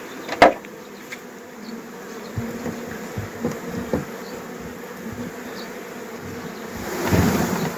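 Steady honey bee buzzing fills the background during hive work with frames, with a few handling knocks and a louder rustle near the end.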